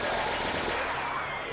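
Rapid chain gun fire at mutants in Castle Totenkopf, a dense, continuous burst of rattling shots at steady volume lasting about a second and a half.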